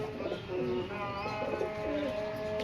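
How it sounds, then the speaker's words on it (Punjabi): Soft pigeon cooing repeats close by over a steady murmur of background noise and faint chirps. "ਆ ਕਬੂਤਰ ਉੜ ਕੇ ਆਇਆ"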